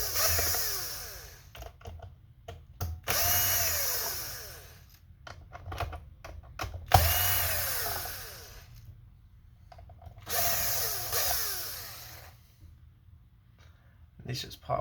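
A powered screwdriver backs T9 screws out of an Xbox Series S console, whirring up close in several short bursts separated by quieter gaps with small clicks and handling noises.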